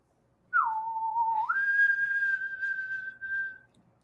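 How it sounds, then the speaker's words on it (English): A sci-fi space whistle with a theremin-like tone at the close of a tabletop game show: a single sustained electronic glide that dips low, then jumps up and holds a steady high pitch for about three seconds, alone and fairly loud. "little space whistle at the end of it all"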